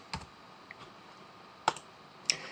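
A few separate keystrokes clack on a computer keyboard in a quiet room as a number is entered: one click, a soft tap, then two sharper clicks spaced apart.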